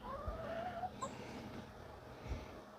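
Backyard chickens giving a few soft clucks and a brief squawk, faint and distant against quiet outdoor background.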